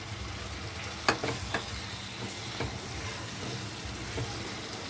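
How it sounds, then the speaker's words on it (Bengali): Potatoes being stirred into oily frying masala in a pan, a low continuous sizzle with a few sharp spoon scrapes and knocks, fairly faint and without talk. "আলুগুলো দিয়ে একটু নাড়াচাড়া করে নিই।"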